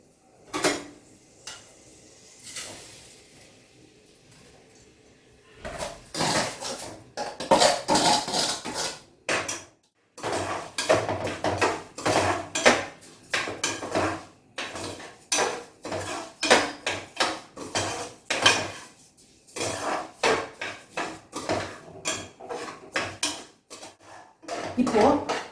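Soaked rice stirred and roasted in ghee in a pot for coconut milk biryani, with a steady run of loud metal scraping and clattering of a spoon against the pot, starting after a few quiet seconds.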